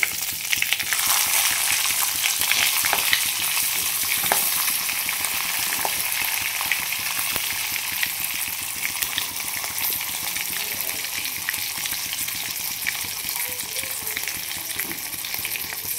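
Stuffed capsicum frying in hot oil tempering, a loud, steady crackling sizzle with bright spitting, close by and continuous throughout, settling slightly after the first second, with no talk.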